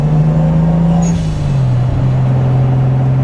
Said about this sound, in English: Turbo really likes to come online right around 3 grand